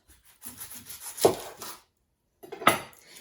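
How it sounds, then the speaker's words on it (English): A kitchen knife saws and rubs through a yellow onion on a cutting board, slicing off the ends in a few short strokes, with two sharp cuts through the onion and a brief pause between them. "And I'm going to cut the ends off of this."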